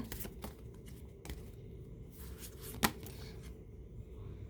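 Tarot cards are shuffled and drawn for a love reading, a quiet run of soft riffling, flicks and taps with one sharper snap in the middle, with no talking.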